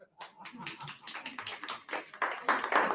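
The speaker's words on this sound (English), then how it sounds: "Give yourself a hand clap." An audience applauds, scattered claps quickly thickening into steady clapping that grows louder toward the end.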